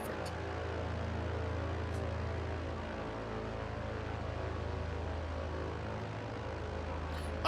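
Steady propeller aircraft engine drone during takeoff of a cargo plane in a flight simulator game, a loud continuous low hum with a faint high whine, no voices.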